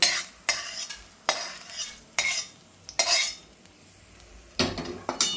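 Roasted coriander seeds scraped out of a pan and onto a plate while preparing Nagar-style kala mutton masala: a run of sharp, irregular metallic scrapes and clatters, close and fairly quiet, with no talking.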